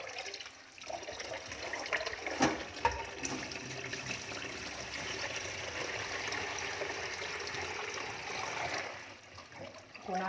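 Water runs steadily as a filtering facepiece mask is rinsed in a container, a soft continuous splashing and trickling at moderate distance with a few louder splashes, no voices.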